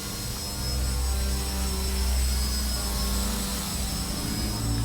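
Engine of a radio-controlled model airplane during hover practice drones loudly and continuously, a steady buzzing whine that swells slightly after the first second.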